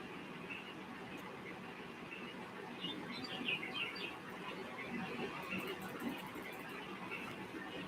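Small birds chirp and tweet in scattered, fairly faint calls over a steady outdoor background rumble, with brief clusters of chirps rising and fading.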